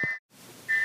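A model steam locomotive whistle, a remake of the Gordon engine, gives two short shrill high toots split by a brief silence, with soft rumble of the running model between them.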